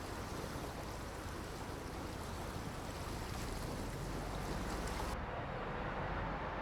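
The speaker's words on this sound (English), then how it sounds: "Oh, there's water here somewhere. It's pretty loud." Water waves in the Farming Simulator 22 video game make a loud, constant rushing wash that runs unbroken for about seven seconds, with no voices over it.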